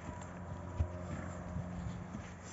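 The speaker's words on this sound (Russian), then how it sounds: "Лошади у нас еще ходят." Hooves of horses walking on a farm, with a year-old filly and a foaling mare nearby, give soft, irregular clip-clop steps at moderate distance over a steady low background.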